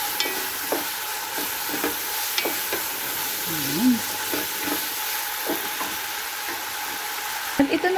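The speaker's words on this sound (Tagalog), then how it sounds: "Ayan, ginisa na natin ang ating karne at andito na rin ang ating hotdog." Ground meat and hotdog sautéing in a pan for spaghetti sauce, a steady sizzle with repeated utensil scrapes and taps. A brief voice cuts in midway.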